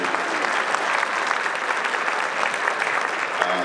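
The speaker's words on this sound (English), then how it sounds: "I want him to stand up just so you can give him another round of applause" Loud, sustained applause from a luncheon crowd at a Men of Color event, honoring the mayor of Anderson as he stands; thick, even clapping fills the whole stretch, fading slightly at the end.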